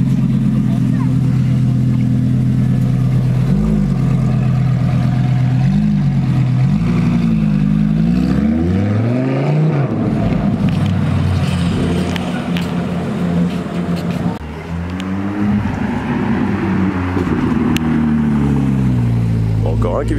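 A car engine revs hard through its exhaust at a supercar gathering, the pitch sweeping up and down in loud, close pulls that run continuously, with voices talking underneath.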